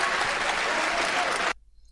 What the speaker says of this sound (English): look how his crowd is applauding for him